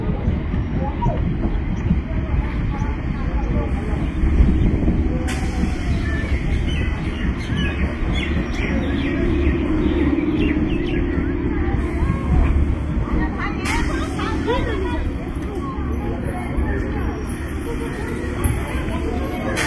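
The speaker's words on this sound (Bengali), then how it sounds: "আমাদের ট্রেন এখন চলে এলো দিগনগর" A Ranaghat–Krishnanagar local train pulls into Dignagar station, a continuous rumble of rolling carriages filling the whole stretch, with onboard chatter and voices running over it throughout.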